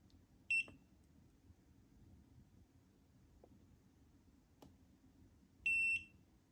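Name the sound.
car gauge oil pressure alarm beeping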